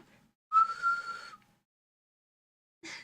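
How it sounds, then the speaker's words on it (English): A person whistles while breathing in, producing one steady, sustained whistled tone about a second long, followed by silence and a short breathy sound. "I can whistle on the inhale"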